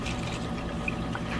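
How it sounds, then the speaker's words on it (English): Milk poured into a bowl, a brief, steady liquid stream with soft gurgling, close and moderately loud without any talking. "Pour him some milk."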